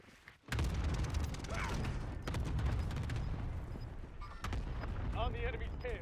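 Rapid video game gunfire crackles in dense bursts of sharp shots, loud and close, with a brief pause midway and a player talking over the action.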